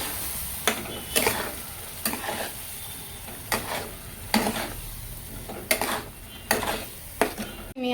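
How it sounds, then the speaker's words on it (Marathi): Spice paste (vatan) for a spicy boiled-egg kadhi being stirred and fried in a pan, with a steady sizzle broken by about ten regular scraping stirs of a spoon against the pan, close and moderately loud, no talking. "चला, हे वाटण आपण घालून मग फिरून घेऊया 2 मिनिटं."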